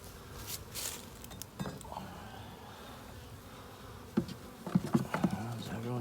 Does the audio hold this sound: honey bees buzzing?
yes